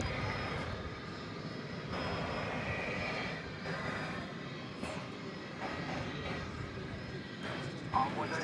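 American Airlines Airbus A321 jet at DFW Airport, a low steady engine rumble at moderate distance running under continuous talk, with a brief knock near the end.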